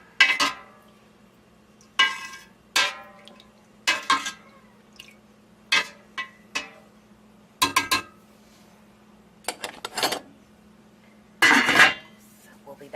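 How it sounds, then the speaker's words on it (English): Stirring rennet into goat milk in a metal pot for feta cheese, with repeated clinks and scrapes of a utensil against the pot in irregular bursts, close and moderately loud over a faint steady hum. "Stir that to make sure it gets all in there"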